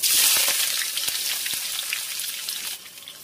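Sliced onions hit hot mustard oil, already seasoned with whole garam masala, in a kadai for a Jharkhand-style chicken: a loud, steady crackling sizzle with scattered sharp pops, fading slightly toward the end, with no talking.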